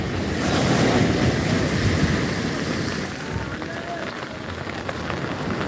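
Sea waves crashing on Digha beach during rain, a loud continuous roaring surf with wind buffeting the microphone, fading slightly after a few seconds.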